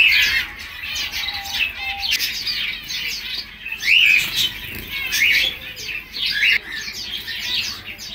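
Small pet birds chirping and tweeting indoors, bright repeated calls and squeaky phrases coming in bursts, close and fairly loud, with occasional rustles of movement between calls.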